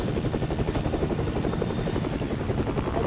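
A helicopter flies overhead in the video game Fortnite, its rotor producing a fast, steady chopping thrum with a droning buzz, loud and continuous throughout with no talk.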